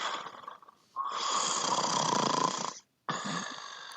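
A sleeping person snores loudly and close by, two long rasping inhalations with a brief pause between them and a softer breathy lead-in, with no speech.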